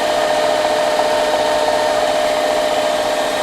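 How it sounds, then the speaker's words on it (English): Power drill boring partway into a workpiece, a steady continuous whine held at an even level throughout, close up with no pauses. "I'm not going to try to drill all the way through"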